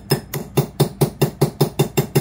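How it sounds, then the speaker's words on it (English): A small 2-ounce hammer taps a roll pin straight down during disassembly of a Smith & Wesson M&P Shield pistol, ten sharp, evenly spaced metallic strikes in a steady quick rhythm, close and alone. "I'm going to use my little 2-ounce hammer, and we're going to drive that guy straight down"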